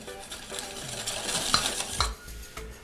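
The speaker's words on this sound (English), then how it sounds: "Now whisk it." Melted butter is whisked into a sauce for ham and cheese sliders, a busy close whisking and stirring with soft metallic clinks against the bowl, then a brief pause near the end.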